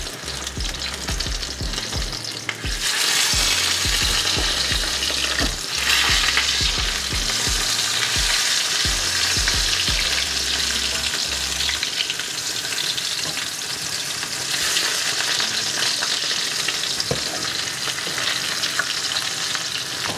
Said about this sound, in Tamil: இப்போ மீன் பொரிக்கும் போது நிறைய எண்ணெய் விட்டு தான் பொரிக்கணுமென்று இல்லை.